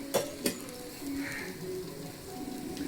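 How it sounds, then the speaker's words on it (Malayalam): Coconut milk poured into a frying pan of hot coconut oil, a soft steady sizzle and bubbling with a couple of light metallic clinks near the start, fairly quiet and close. "നമുക്ക് തേങ്ങാപ്പാൽ ഒഴിച്ചു കൊടുക്കാം"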